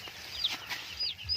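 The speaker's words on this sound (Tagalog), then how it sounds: "yung ating sisiw ngayon guys ay ano na to, 2 days old na sila rito" Two-day-old broiler chicks peeping inside a warm brooding house, a few short high chirps scattered over a second or so, faint and somewhat distant.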